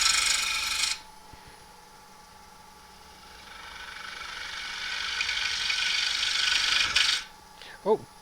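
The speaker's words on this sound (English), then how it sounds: "I'm going to line the cutting edge of the wing up here and just guide the tool along the face, nice and easy" A lathe turning tool cuts across the face of a wooden beginner's bowl, giving a steady, close scraping hiss that fades, then builds over several seconds before a sharp stop and a brief knock.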